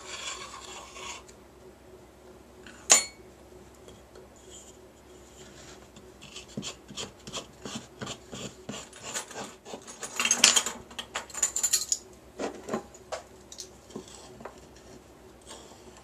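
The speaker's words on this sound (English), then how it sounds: "as I mix the ingredients together" Dry incense ingredients for a fire-season Lammas blend being stirred and scraped together by hand, a close, steady gritty rasping with scattered clicks, growing busier and louder in the second half.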